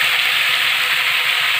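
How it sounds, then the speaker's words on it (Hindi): Potatoes and fenugreek leaves hitting a hot pan give a steady, loud, continuous sizzle with no talking over it. "आलू डाल देंगे, और मेथी भी डाल देंगे"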